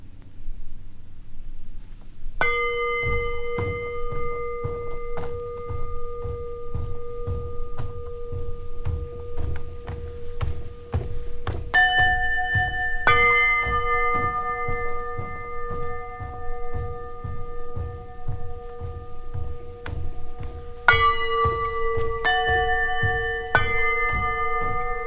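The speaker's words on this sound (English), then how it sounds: "Fifth bell." Bells in Tom Johnson's Nine Bells, struck one after another with clear ringing tones that sustain and overlap. Each strike gives a sharp attack, with steady footsteps or taps between strikes in a quiet room.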